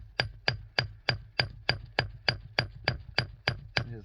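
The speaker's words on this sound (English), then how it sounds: "I'm gonna go to my smaller hammer." A small hammer taps hard on rock at Topaz Mountain, breaking open vugs, in a steady rhythm, about a dozen sharp, ringing hits, close and loud with nothing else around.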